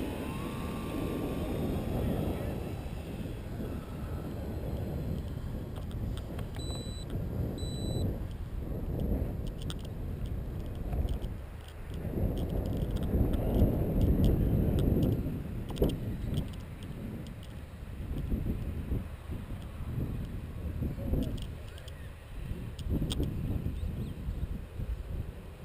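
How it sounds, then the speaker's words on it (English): Strong wind roars and buffets across an open RC airfield ahead of a storm, a steady low rumble that swells and fades in gusts. "So this is pretty windy, guys."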